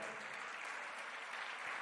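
Church congregation applauding during a sermon, a faint, distant and even patter of clapping that carries on briefly with no clear voices above it.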